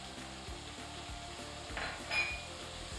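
A stir fry seasoned with paprika, ginger, garlic powder and barbecue sauce sizzles quietly in a pan, a soft continuous crackle with a faint metallic scrape near the end and no talking.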